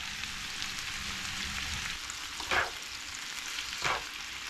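Food sizzles and fries steadily in a small, overfilled pan, with two brief louder bursts of stirring partway through and no talking.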